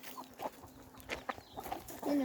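Faint, scattered clucking from a few hens, soft and somewhat distant, in short irregular bursts.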